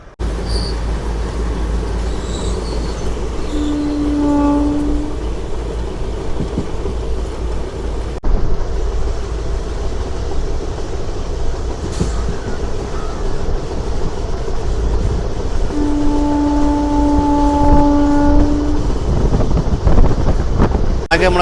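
A special train bound from Secunderabad to Villupuram rumbles along with steady wind and carriage noise, a horn-like tone sounding twice, with someone talking over it.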